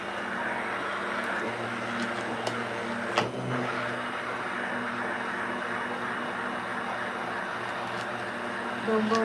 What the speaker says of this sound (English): I'm going to let it blend a little bit more so it's like really smooth and wonderful.